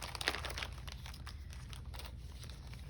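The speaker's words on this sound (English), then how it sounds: "Now I'm going to grab my bag that has all of my pockets cut out." A paper bag full of cut-out paper pockets for a junk journal is handled up close. It gives a soft, continuous crinkle and rustle with a sharper crackle near the start, and no one speaks.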